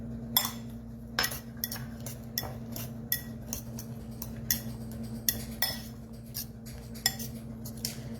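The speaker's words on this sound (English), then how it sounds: "So now I'm just going to mix all the egg up in here." Eggs being mixed with salt in a bowl for a salmon quiche, a utensil clinking against the bowl in a run of sharp, uneven taps with brief pauses, close by over a steady low hum.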